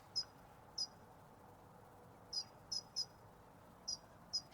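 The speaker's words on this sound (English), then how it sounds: "Called a hedge sparrow, and it's making this very high-pitched noise." A dunnock, or hedge sparrow, calls from a hedge with brief, thin, very high-pitched notes, about seven short calls spaced irregularly over a faint outdoor background.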